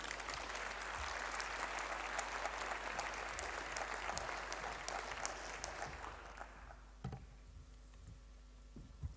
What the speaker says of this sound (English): Good applause, please, for all speakers of these 10 projects